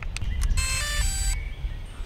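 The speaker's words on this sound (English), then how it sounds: "We are used to the old DJI drone startup sound for so long" An older DJI drone plays its startup sound, a short bright electronic chime of a few clicky blips and then a sustained tonal melody, heard close over low background rumble.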